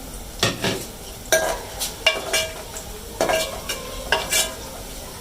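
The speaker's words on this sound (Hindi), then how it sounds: "अभी हमें मैं प्याज ब्राउन कर रही हूँ।" Onions browning in a pan for a potato-and-egg curry give a steady sizzle broken by repeated scraping clatters as a spoon stirs against the metal, close and clear, in an uneven rhythm.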